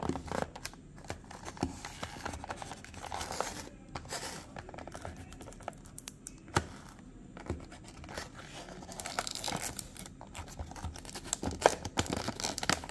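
Someone unboxes a Mini GT Pagani Huayra Roadster model car, with quiet close-up crinkling, tearing and rustling of packaging in irregular bursts throughout.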